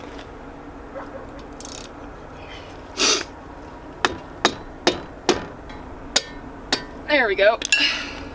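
A 2003 Subaru WRX brake caliper struck with sharp metallic taps, about seven evenly spaced close knocks, followed by clinks and rattling of the freed part, with brief talk at the end.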